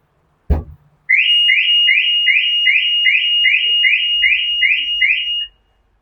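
Maruti car security alarm: a sharp single thump, then a loud repeating electronic chirp that cycles about a dozen times at a brisk, even rhythm before cutting off abruptly.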